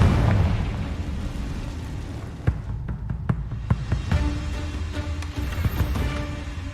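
Confringo fire spell blasts in Hogwarts Legacy burst out as a series of sharp booming pops over a rumbling battle bed, several close hits spaced irregularly through the second half.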